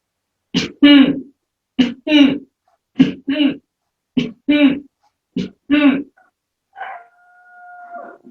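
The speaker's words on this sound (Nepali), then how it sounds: "या मुख बन्द गरेर खोक्ने एकचोटि।" A person does a yoga breathing exercise, giving forceful coughs with the mouth closed: five short paired bursts in a regular rhythm, close and clear, followed by a brief softer tonal sound at the end.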